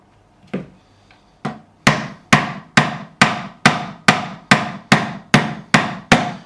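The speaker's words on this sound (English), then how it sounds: "I'm just going to take a hammer." A hammer taps a raised fret back into place on an Ibanez GAX 30 guitar, a few hesitant knocks followed by about a dozen sharp, evenly spaced strikes, close and distinct with no speech.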